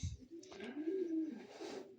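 Racing pigeons coo in a pigeon loft, a soft, low, rolling call that rises and falls against quiet background noise.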